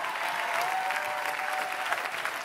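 Worshippers at a prophetic church service keep up a continuous, even round of hand clapping, a thick crowd texture heard at moderate level with a faint sustained tone behind it.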